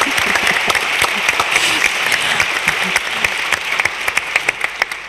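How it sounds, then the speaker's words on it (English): An audience at a NATO strategic concept conference applauds the moderator with lively, sustained clapping, dense at first and thinning toward distinct individual claps near the end. "A big applause for our moderator,"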